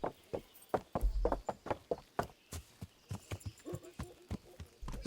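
Horse hooves clip-clop at a steady walking pace on hard ground in the medieval game Kingdom Come: Deliverance, a string of distinct close thuds with light background ambience and no talk.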